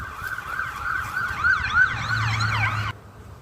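A police car siren passes nearby, a loud wailing electronic tone that rises and falls several times over a low engine rumble, then cuts off abruptly near the end.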